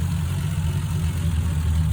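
A freshly rebuilt Triumph TR6 engine idles at its first start, a steady low rumbling drone with even throb, close and fairly loud, no voices.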